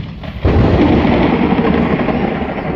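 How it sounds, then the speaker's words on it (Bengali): A deep, heavy rumble swells up suddenly and rolls on steadily, like thunder booming overhead. "প্রচণ্ড মেঘ ডাকছে আজকে, আজকে বৃষ্টি হবে সকালে"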